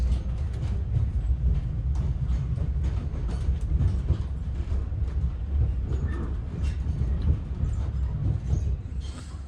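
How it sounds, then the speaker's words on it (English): A Night Riviera sleeper train hauled by locomotive 57602 pulls away from Saltash station in Cornwall, heard from on board as a steady low rumble with faint wheel clatter and light squeals, continuous and fairly loud throughout. "We are now departing Saltash."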